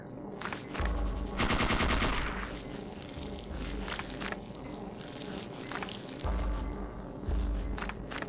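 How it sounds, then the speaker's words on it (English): Submachine gun fire in the Parasite Eve 2 video game, rapid sustained bursts of shots with dull booms and creature sounds between volleys, loud and close throughout. "that submachine gun really is quite handy"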